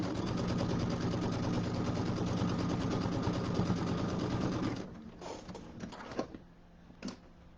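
A sewing machine stitches quilt pieces with a rapid, even mechanical chatter for several seconds. It then stops, leaving a few faint clicks and taps.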